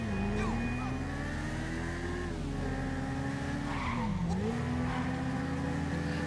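A stolen motorbike in GTA 5 Online revs and shifts pitch continuously, its engine drone rising and dipping as tires squeal and skid, steady and moderately loud throughout.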